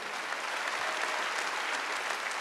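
A church congregation claps together during a Wednesday worship service, steady dense applause filling the room without a break.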